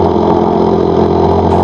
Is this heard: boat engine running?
yes